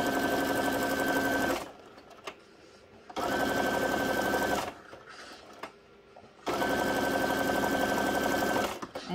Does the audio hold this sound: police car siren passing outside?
no